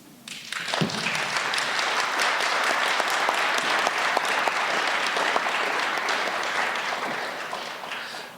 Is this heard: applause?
yes